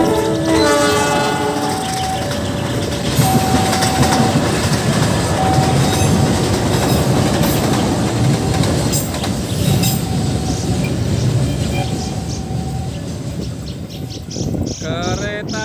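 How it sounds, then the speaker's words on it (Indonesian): A Thomas toy train runs along its rails with a steady clattering rumble and a few brief horn-like tones, close and continuous throughout. "Keretanya sudah mau datang teman-teman."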